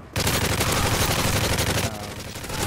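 Sustained automatic gunfire rattles loudly and densely in Modern Warfare 3 Spec Ops. It starts abruptly and eases slightly near the end.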